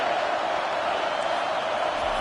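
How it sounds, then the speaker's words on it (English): A college football stadium crowd roars loudly on third down, a dense, sustained wall of cheering noise throughout. "Third down, and this crowd is tearing the lid off this place."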